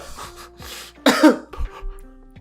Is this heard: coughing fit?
yes